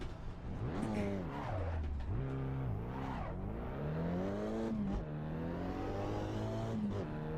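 A race car in the Assetto Corsa Evo driving game revs hard and shifts through gears, its engine pitch climbing and dropping repeatedly, loud and close throughout, with brief tire squeal.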